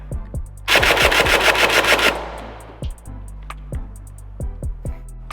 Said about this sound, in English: let's just go full auto and just empty this mag